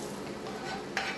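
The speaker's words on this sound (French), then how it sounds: "Je mélange pour faire un espèce de gâteau homogène." A utensil stirs a cooked courgette, apple and tomato mixture in a pan, giving a continuous soft scraping and wet churning with a faint sizzle, close and steady, ending with a brief louder scrape.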